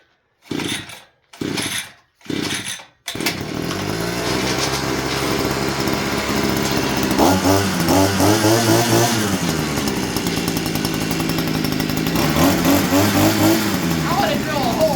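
Three short recoil pulls on a small gas engine from Temu, then it catches and runs steadily close by, loud and buzzing with a few revs and surges.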